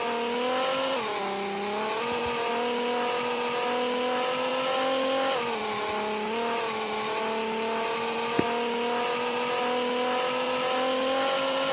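Race cars in a video game, a steady droning engine tone holding high revs with slight pitch dips at gear changes, continuous and fairly loud, with a single sharp click partway through and no voices.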